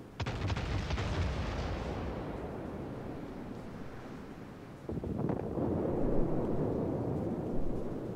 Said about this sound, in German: Nächste Salve schieße ich für Wyoming.